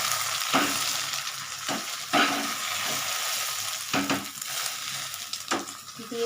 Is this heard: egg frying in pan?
yes